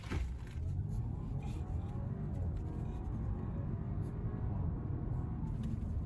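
An Audi A4 Avant quattro S line with a 252-horsepower 2.0 TFSI engine accelerates hard from a launch-control start, a sustained loud close engine roar building without pause.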